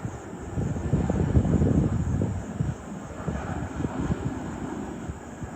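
A jet plane passes overhead near Kempegowda International Airport, its engine roar steady and fairly close, swelling in the first half and easing slightly after, with no talking.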